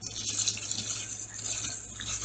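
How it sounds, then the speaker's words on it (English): Melted soy candle wax is poured from a pouring pot into a container, a soft, continuous trickling pour heard close and faint, with no talking. "So what I'm going to do is pour the rest of this wax up"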